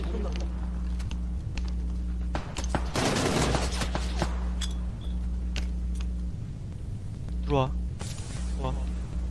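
Gunfire in PUBG on Xbox, scattered sharp shots and a dense burst in the middle, at moderate distance under a steady hum, while players talk over it.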